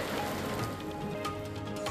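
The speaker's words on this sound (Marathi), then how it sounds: "मान्सूनपूर्व पावसाने चांगलंच झोडपलं" Heavy pre-monsoon rain falls on Sangli city and its surroundings, a continuous dense patter with scattered sharper drops and a low background rumble, and no voices.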